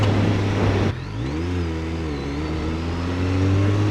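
A car engine holds a steady, moderate drone during an easy run, its pitch dipping slightly and then rising again, loud and close with no talking.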